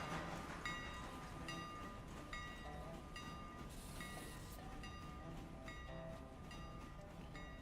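A three-car train in the video game Railroader rumbles along steadily with repeated rhythmic clatter and a faint high whine, a continuous moderate mechanical sound with no talking.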